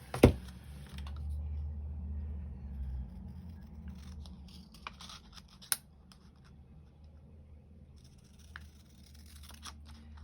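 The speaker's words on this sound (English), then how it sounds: "I'm getting brave at using the scissors" Scissors snip through paper ephemera in a few short, crisp cuts, close up and fairly quiet, with pauses between them and no talking.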